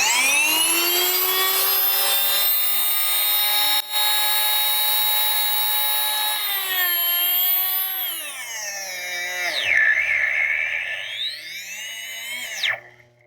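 A small electric grinder whirs steadily while grinding garlic into powder, a loud continuous motor whine that holds for about eight seconds, then sags, wavers and climbs in pitch before cutting out near the end.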